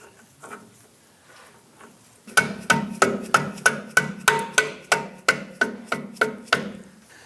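A mallet taps a lower control arm bushing into place on a 1997-2006 Jeep Wrangler, with about a dozen sharp, evenly spaced knocks, close and loud after a quiet start.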